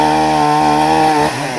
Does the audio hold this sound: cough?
no